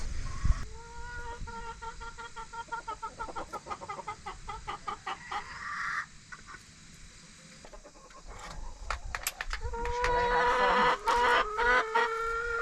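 Hens cluck and chatter steadily near their coop on a homestead, with several birds calling in overlapping, rhythmic bursts at close range, a louder flurry rising toward the end.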